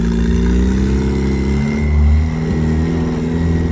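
A race car with a manual gearbox idles and revs loudly up close, a steady engine drone that swells briefly before settling back, with no talk.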